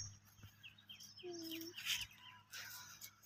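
A koel calling in a village, a clear tonal bird call rising over soft rural background noise along with other chirps and squawks, moderately close.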